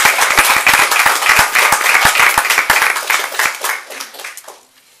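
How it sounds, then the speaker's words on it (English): An audience at a school board of education meeting claps for honored students, with loud, close clapping, individual sharp hand claps standing out, that thins and fades away over the last second. "The Board of Education applauds them for earning this honor."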